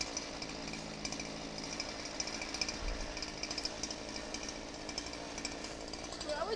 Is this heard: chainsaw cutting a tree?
yes